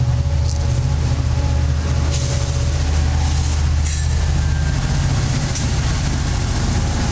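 An Amtrak passenger train passes near the UC Davis campus, a loud, steady low rumble of engine and rolling cars with occasional higher squeals and clanks over the drone.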